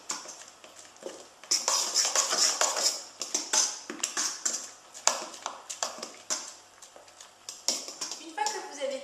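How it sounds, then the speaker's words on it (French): Crepe batter of flour, eggs and oil being whisked in a bowl, heard as quick rhythmic clinking and tapping of a whisk against the bowl, close and fairly crisp, with someone speaking French over it. "Et vous mélangez."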